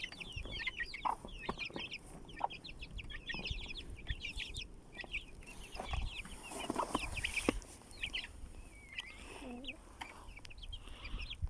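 Hens and roosters cluck steadily in a coop, with overlapping bird calls throughout and a soft rustle of feeding near the end.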